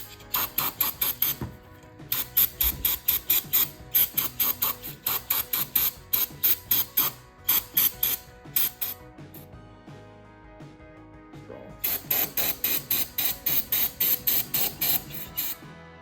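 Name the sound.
spraying cleaner on F150 engine parts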